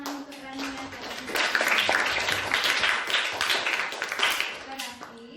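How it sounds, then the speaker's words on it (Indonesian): Students in a classroom clap for a classmate, a burst of dense hand clapping from a group that rises, holds for a few seconds and tapers off, with voices talking over it. "tepuk tangan untuk Rania."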